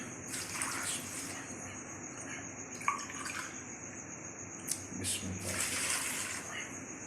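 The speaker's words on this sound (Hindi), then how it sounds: "अब इसमें 2 कप पानी शामिल कर लेंगे।" Two cups of water poured into a pot with tomatoes, onion and a tied spice bundle for homemade tomato ketchup, a soft splashing, trickling pour with a few drips, fairly close and steady for several seconds.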